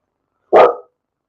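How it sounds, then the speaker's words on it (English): A single sharp, loud bark from a dog, close and alone, in otherwise silent surroundings. "I can hear Milo barking through that"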